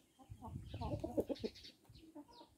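Wyandotte chickens cluck close by in a burst of soft, rapid clucks and murmured calls from a few birds, rising and then trailing off quietly.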